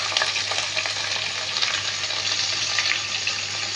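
Chopped green chili and onion fry in a pan, a continuous close hissing sizzle with a low steady hum beneath, no voices.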